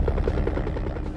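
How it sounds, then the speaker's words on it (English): A four-seat Robinson R-44 helicopter, used for hunting wild boar, flies with a steady, loud, rapid rotor thumping and a heavy engine drone throughout. "hunters often use small helicopters, specifically the Robinson R-44"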